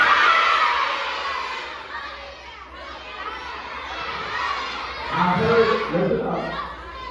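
A school audience at a student council induction ceremony yells guesses all at once, a loud jumble of overlapping shouting voices, many of them children, swelling and fading over several seconds.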